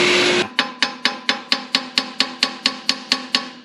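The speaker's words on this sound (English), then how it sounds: "Dad's hammer trick works, so that got it to move, surprisingly" Hammer blows on engine parts of a 1936 Caterpillar RD4 crawler tractor: a burst of scraping noise, then about twelve evenly spaced sharp metallic strikes, each ringing briefly, loud and close with no talk.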